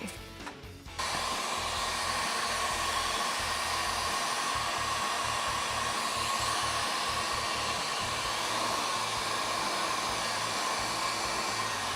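Heat gun blowing steadily on vinyl wrap film on a motorcycle during a DIY wrap job, a constant close airy roar that starts after a brief quiet moment and runs unbroken to the end.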